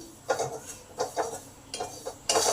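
A utensil scrapes and stirs ground chili, coriander and cumin in oil in a pan, a run of short, close scraping strokes at an uneven rhythm, each stroke rasping briefly against the metal.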